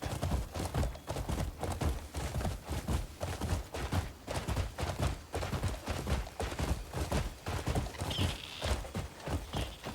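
Horse hooves clip-clop steadily in a continuous rhythmic gait while riding along a road in the video game Crimson Desert, loud and close throughout, with a brief bird call near the end.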